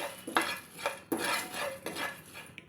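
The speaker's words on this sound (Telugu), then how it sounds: "ఇలా 5 మినిట్స్ వేయించుకుందాం." Whole spices and cumin seeds dry-roasting in a pan for garam masala powder, with a utensil scraping and clinking against the metal in repeated strokes, close and fairly quiet, no talk.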